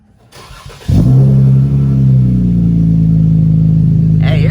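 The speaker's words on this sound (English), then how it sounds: "I'm about to give y'all a startup of no mufflers" A V6 Chrysler 300S with its mufflers removed cranks and fires up, then settles into a loud, deep, raspy idle that drones steadily and close, with a brief voice at the very start.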